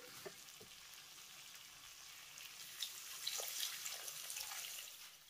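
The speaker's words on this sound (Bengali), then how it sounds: "আর এবার আমি এর ভিতরে অ্যাড করব জল।" Water is poured into a pan of potatoes and soya chunks cooked with masala, giving a faint, continuous splashing and hissing that builds through the second half before easing off.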